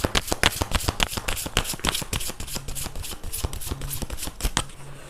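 Tarot cards being shuffled by hand: a brisk run of crisp slaps and riffling flicks, close and fairly soft, with an uneven rhythm throughout.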